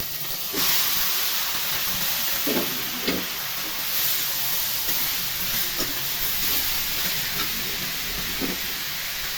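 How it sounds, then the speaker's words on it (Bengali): Chopped bottle gourd hits a hot pan already holding fried onions, chilli and cumin, and the pan gives off a broad, steady hiss of steam and sizzle. Soft, scattered stirring knocks sit under the hiss, and no one speaks. "পেঁয়াজ ভাজা হয়ে গেছে, এখন লাউ কুচি ঢেলে নেব।"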